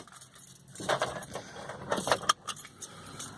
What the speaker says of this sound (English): And we're going to turn off the vehicle.